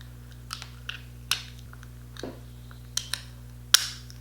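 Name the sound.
removing clear dental aligner trays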